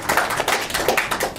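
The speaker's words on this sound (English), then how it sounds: "Give him a round of applause." An audience claps in a brief, moderately loud burst of applause, with no talking over it.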